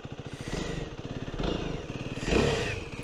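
An F.B Mondial HPS Ubbiali 125 motorcycle engine idles with a fast, even pulsing beat and then gets a few short blips of throttle, rising and falling up close.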